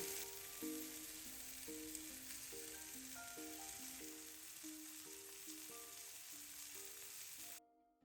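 Chicken fillet frying in a pan, an even sizzle running under a soft melodic tune, both cutting off abruptly just before the end.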